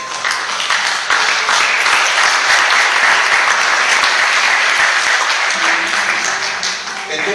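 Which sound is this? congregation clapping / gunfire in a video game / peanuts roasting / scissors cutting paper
congregation clapping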